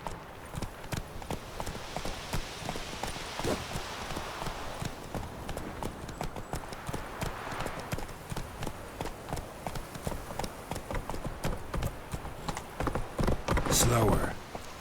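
Hooves of a galloping horse in The Witcher 3 video game clip-clop in a fast, steady rhythm throughout, close and prominent, with a voice speaking over them.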